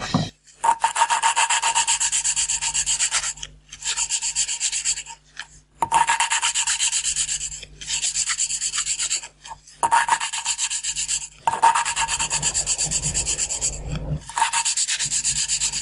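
Gritty rasping and rubbing in repeated bursts, a few seconds each with brief pauses between, close and steady, as an engine valve from a Renault 4 is rotated back and forth on its seat with lapping paste.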